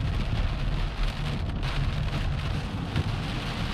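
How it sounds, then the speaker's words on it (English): Heavy rain drums steadily and loudly on a van's roof and windscreen while it is driven through Glencoe in the Scottish Highlands, with a continuous low road rumble underneath and no voices. "as the rain's getting heavier and heavier"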